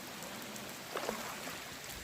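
Rain falling outdoors, a faint, even wash of water noise over the whole short stretch, with a couple of soft brief sounds near the middle.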